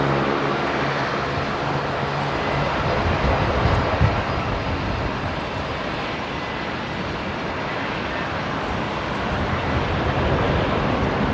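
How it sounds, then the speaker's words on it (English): A QantasLink Embraer jet bound for Adelaide takes off from runway 19 left at Brisbane Airport, a broad, steady engine roar heard from a distance that swells slightly midway and stays constant to the end. "The Embraer on screen here, operating Qantas Link 1937 today down to Adelaide. So expect that to go off with 19 left."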